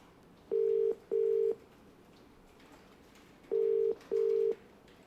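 Ringback tone on an outgoing phone call: two pairs of steady beeps separated by a pause, heard over a faint background hum with no talk.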